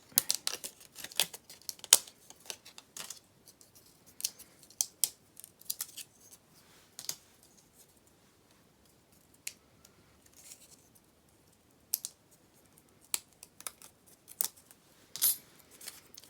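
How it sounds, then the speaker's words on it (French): A paper die-cutting machine works through an inked card sheet, giving irregular sharp clicks and snips scattered over a quiet background, close and fairly faint, with no voices. "Et je passe dans ma machine de découpe."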